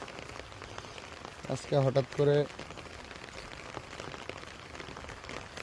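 Rain comes down steadily on a farm, a close, even patter on hard surfaces that carries on throughout while someone speaks briefly over it.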